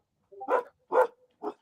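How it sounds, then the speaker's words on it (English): A dog barks three times in quick succession, each short and clear with brief gaps between them, close by in a quiet setting. "That's his dog. I thought that was my dog."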